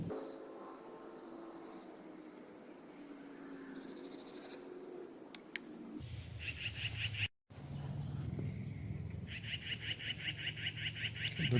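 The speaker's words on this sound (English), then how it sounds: "The bird in the background." Bird calling outdoors in the background during a car windshield leak repair, with repeated chirps and a steady insect-like trill, faint and continuous over low ambient noise.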